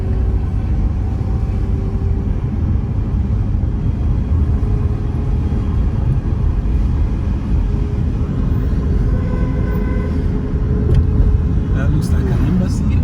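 A car drives along a street in Maitama, Abuja, with steady low road rumble and engine noise throughout, and faint passing traffic toward the end.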